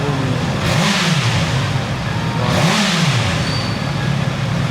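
Honda CB650R motorcycle engine revving twice during a service check, rpm rising and falling in two smooth swells, loud and close over a steady idle, with no talk.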